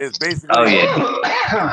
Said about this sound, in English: I hope I didn't cough in your ear